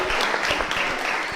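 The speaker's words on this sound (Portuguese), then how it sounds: "Salve de palmas para Mariana" Broadband, steady applause fills the whole stretch as an audience claps for Mariana on a podcast, a dense wash of many hands with no talk over it.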